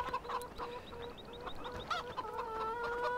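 Chickens cluck in a busy henhouse in the farming game Farming Simulator 2015, a steady overlapping chorus of short, close clucks and calls with no talk over them.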